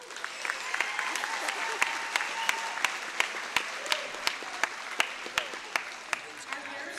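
Sustained crowd applause and cheering fills a high school basketball gym on senior night, Cougars versus the Riverton Hawks, with sharp individual claps popping above a dense, steady wash of clapping and voices.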